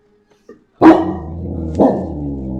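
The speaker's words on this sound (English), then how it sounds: "There's my dog." A dog barks twice nearby in a woodworking shop, loud, sharp barks about a second apart, after a faint soft yip.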